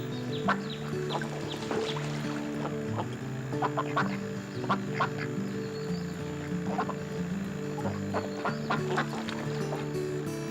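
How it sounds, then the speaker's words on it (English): Ducks quack in repeated short calls on a river, set against a steady bed of sustained musical tones and other faint animal calls. "They're talking duck again."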